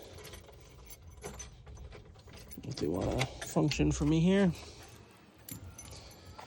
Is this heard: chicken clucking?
no